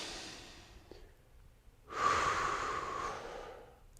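Breathing during a stretching exercise: a soft, faint breath, then a longer, louder exhale with a breathy hiss that fades away, close to the mic with no talking.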